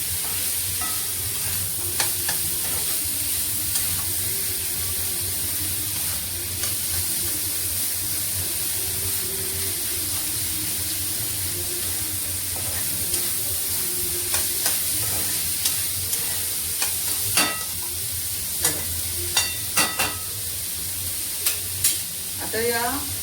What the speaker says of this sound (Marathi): आणि चांगलं हलवून घ्यायचं.